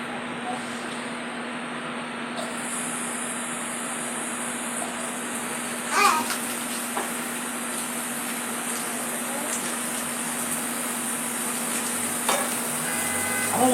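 Ham sizzling in oil rendered from sausages in a home pan: a steady, even frying hiss runs throughout over a low hum, with a few brief clinks and no talk.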